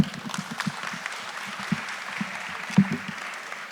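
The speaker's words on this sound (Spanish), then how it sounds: "Un fuerte aplauso para él." Applause at a university conference on labour reform, a moderately loud run of scattered hand claps from an audience for several seconds, with no speech over it.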